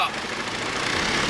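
An LS-swapped Edge-generation Ford Mustang engine runs steadily at a fairly loud, continuous level, its rough rumble filling the short stretch without pause.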